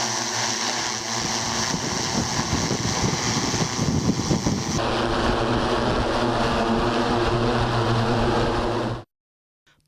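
An agricultural drone flies over farmland in Punjab, giving a steady, loud motor whir mixed with wind rush that cuts off abruptly near the end.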